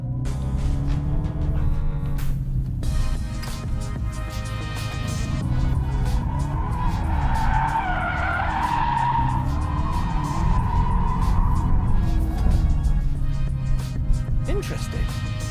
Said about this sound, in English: Donut makes the car rear-wheel drive and a little bit skiddy